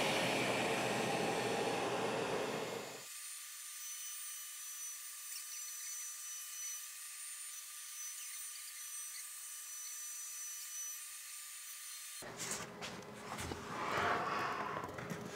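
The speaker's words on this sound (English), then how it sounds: "Now let's cut out the MDF and make a top." A power tool cuts through an MDF board in one sustained, even pass lasting several seconds, with rougher noise just before and after the cut.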